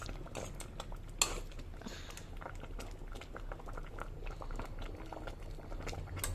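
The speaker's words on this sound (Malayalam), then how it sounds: "അപ്പോൾ അതുകൊണ്ട് കുറച്ച് വെള്ളം ഞാൻ ഒന്ന് വറ്റിച്ചെടുക്കുന്നുണ്ട് കേട്ടോ" Liquid bubbling and reducing in a pan, a quiet continuous bubbling with soft pops and light utensil clicks, one sharp tap near the start, close but faint, no voices.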